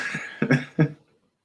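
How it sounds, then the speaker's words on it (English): A short burst of two or three close, sharp coughs, loud and dry, then quiet. "I coughed."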